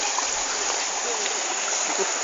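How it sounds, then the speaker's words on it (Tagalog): Steady broadband rush of river water flowing, continuous and fairly close, with no distinct splashes standing out over the two-second stretch. "Ito po yung ilog."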